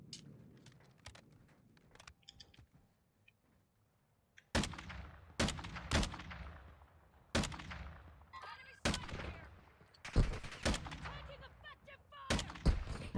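Gunfire in Fortnite during a duos match: quiet at first, then from midway a series of loud, sharp shots fires in quick, uneven succession until the end.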